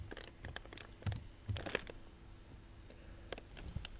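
An email address being typed on a computer keyboard, heard as faint, irregular clusters of soft key clicks with brief pauses between them, close by and quiet, with no talking.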